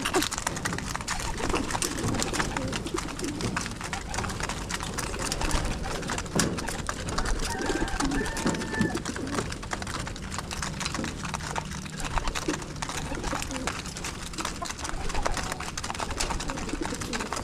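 Pigeons coo steadily in a loft, a dense, continuous layer of soft throaty calls close by, with faint clicking noises scattered throughout.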